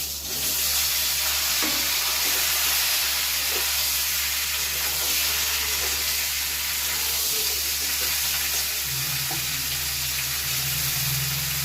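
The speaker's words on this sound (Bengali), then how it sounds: "এখানে সবজিগুলো কেটে ধুয়ে রেখেছি, সেগুলো দিয়ে দেব।" Chopped, washed vegetables hit a hot pan and fry with a steady, loud broadband sizzle and hiss that holds evenly throughout, with faint stirring clatter and no voices.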